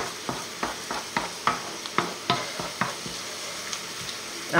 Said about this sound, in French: Et on remue. Ça va caraméliser